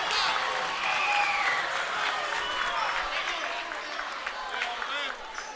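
Noisy, unruly crowd at a high school district semifinal basketball game, a steady wash of cheering and chatter that fills the clip, with a slight fade toward the end.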